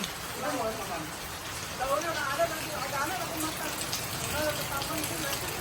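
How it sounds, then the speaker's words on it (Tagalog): Rain falling on a farm, a steady patter and hiss of drops on surfaces running throughout, with a voice speaking over it. "Thank you Lord for the rain."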